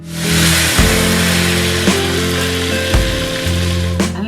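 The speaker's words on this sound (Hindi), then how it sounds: "अब हम इसमें कबाब डाल के फ्राई करेंगे" Chicken Alfredo kababs, coated croquettes, frying in oil over a slow flame, a loud, steady sizzle broken by several sharp clicks and bursts of spattering as pieces are moved.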